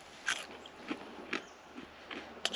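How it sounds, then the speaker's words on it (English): Someone bites and chews crunchy chips outdoors, several soft irregular crunches close by over a faint background hum. "those chips are crunchy on the outside, soft in the middle, all the way through the pack."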